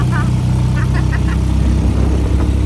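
A loud, close motor tricycle engine idles with a constant low drone, with brief voices chattering over it on a family trip in Boracay.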